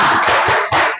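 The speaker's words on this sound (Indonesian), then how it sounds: "Tepuk semangat." Students in an Islamic education classroom clap together in a quick, loud rhythmic spirit clap, a dense burst of hand claps with a short pause before a final flurry.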